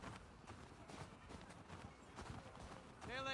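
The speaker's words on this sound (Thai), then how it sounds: "หน้าประตูแล้วก็มีม้าเตรียมออกเดินทางไปหาทรัพยากรครับ" Horses shuffling and clip-clopping near a gate in The Last of Us Part II, soft uneven hoof steps close by with low game ambience, ending in a faint rising tonal sound.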